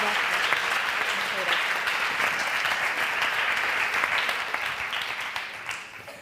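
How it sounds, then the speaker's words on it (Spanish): Sustained, strong applause from an audience at a talk series event, dense even clapping that carries throughout before gradually thinning toward the end. "Pidiendo un fuerte aplauso para ella"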